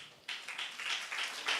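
An audience breaks into loud clapping, a dense burst of applause that starts abruptly and carries on evenly to the end.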